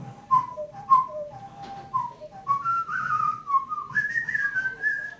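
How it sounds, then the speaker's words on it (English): A person whistles a wandering melody alone, with clear sustained notes that slide and step higher near the end, close and fairly loud. "It means I'm an alarmingly good whistler."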